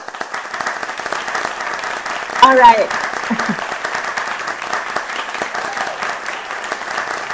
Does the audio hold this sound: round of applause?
yes